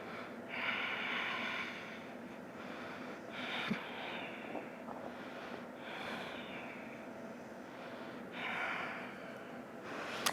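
Deep, audible breaths during an advanced vinyasa yoga flow in plow pose: slow, close, airy inhales and exhales repeating in long, steady cycles.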